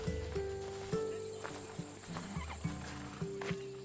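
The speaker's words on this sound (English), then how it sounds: "Fine, but I'm taking a horse." A horse in Assassin's Creed Odyssey whinnies, with a clear neigh near the start, while hooves clip-clop steadily at a walking pace throughout, fairly close and moderately loud.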